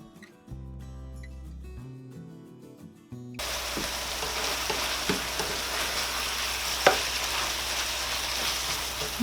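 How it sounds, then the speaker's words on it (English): Ground beef for goulash browns in a pot, giving a steady close sizzle with a few scraping stirs. Before it comes a short stretch of soft background music. "A little bit of pink in the meat yet, so cook it till the pink is gone."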